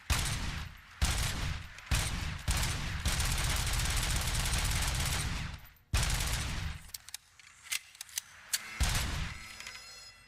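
Automatic service-weapon fire in the Robocop: Rogue City video game, loud sustained bursts with short gaps, a long continuous stream in the middle, then scattered shorter volleys near the end, with no talking.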